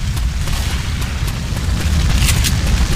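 Pipe bomb exploding in Left 4 Dead 2, a loud, continuous rumbling boom filling the whole moment with dense low roar and crackle, no talk.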